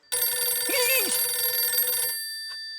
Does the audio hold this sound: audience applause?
no